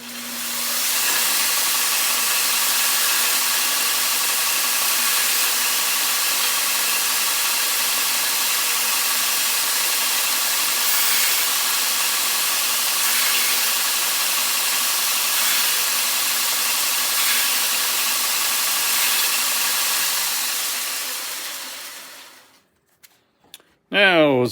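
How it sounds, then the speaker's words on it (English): A homemade belt sander with coarse and fine belts runs steadily for a long stretch, a loud continuous whirring hiss with a faint tonal hum, then winds down and stops near the end. "This is the belt sander I built."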